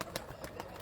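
Soft pigeon coos, a few brief low murmuring calls spaced through the moment, faint and fairly close, with light background noise.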